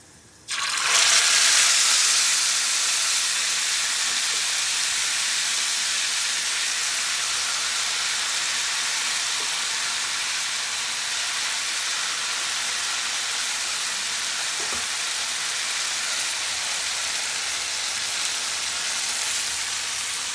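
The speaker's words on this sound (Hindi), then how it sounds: "देसी घी का तड़का लग गया है" Steady, loud sizzling hiss of hot desi ghee tempering in a pan for Punjabi sarson ka saag, starting abruptly and continuing unbroken for about twenty seconds with no talking.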